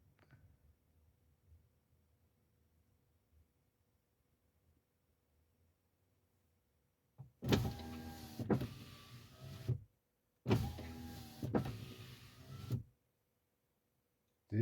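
Volvo power window motor on a V70/S60/XC70/S80 runs twice during window initialization after a rubber seal change, each run a steady whirring hum of about two to three seconds with a brief stop, following a long near-silent stretch.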